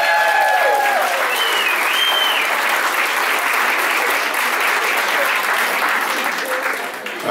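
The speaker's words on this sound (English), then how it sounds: "How about let's give a warm welcome. Lots of applause." Loud, sustained audience applause from a crowd welcoming performers, steady clapping filling the whole stretch and tapering slightly at the end, with no one talking over it.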